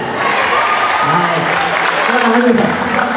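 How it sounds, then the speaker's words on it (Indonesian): Audience applause for Ustaz Almin at an Isra and Miraj 2021 gathering: a short burst of continuous clapping with voices talking over it. "Boleh tepuk tangannya untuk Ustaz Almin."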